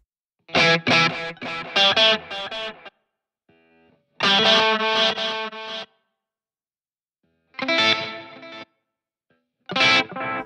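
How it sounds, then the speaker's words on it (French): Electric guitar played through a NUX MG30 multi-effects pedalboard with a tape-echo delay on a blues tone, loud bursts of chords and phrases separated by short gaps, with faint echo repeats trailing between them. "Un petit délai serait cool, on va écouter ce que propose le MG30."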